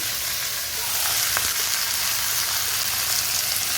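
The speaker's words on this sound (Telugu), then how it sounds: "జీలకర్ర వేసి అది వేగిన తర్వాత ఒక కరివేపాకు వేసి తర్వాత సిమ్లా మిర్చి వేసి" Capsicum frying in hot oil with cumin and curry leaves for capsicum patholi, a dense continuous sizzle heard up close with a faint scrape partway through.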